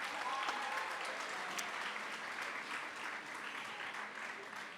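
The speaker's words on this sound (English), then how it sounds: "Let's give them a round of applause again." An audience at a school award ceremony applauds a graduating class, a steady, faint wash of many hands clapping from a distance that continues evenly throughout.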